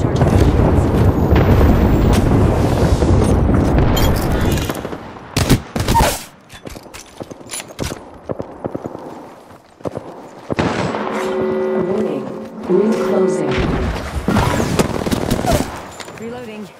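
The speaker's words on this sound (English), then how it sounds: "Airstrike." Airstrike explosions in Apex Legends mixed with heavy gunfire: loud sustained booms and rattling shots, then scattered sharp cracks and a renewed roar of blasts, with voices talking in between.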